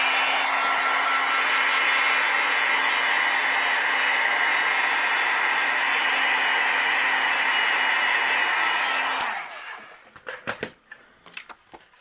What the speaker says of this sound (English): now I'm going to use my heat gun and go over this just to make sure it's dry